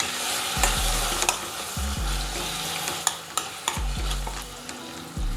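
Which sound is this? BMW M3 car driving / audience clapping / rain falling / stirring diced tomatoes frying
stirring diced tomatoes frying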